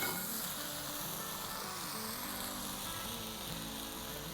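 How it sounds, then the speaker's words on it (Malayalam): Prawns being stirred with masala and rice for a prawn pulao, a dense, steady sizzle with soft stirring underneath, close and even throughout, and no voices. "അത് പ്രോൺസ് നമുക്ക് ഇതെല്ലാം കൂടെ ചേർത്ത് ഒന്ന് ഇളക്കി കൊടുക്കാം"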